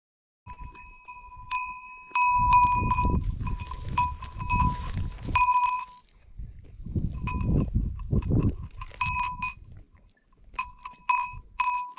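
Goats bleat and chew nearby while metallic bells ring repeatedly in clusters, with brief pauses between bursts of activity.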